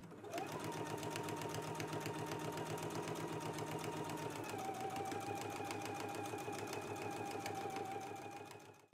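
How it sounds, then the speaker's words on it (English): Close, continuous sewing machine stitching runs along the long edges of a fabric carrier, a fast even needle rhythm holding steady for about nine seconds before slowing at the very end. "I can go to the sewing machine and I want to do edge stitching on both long edges here"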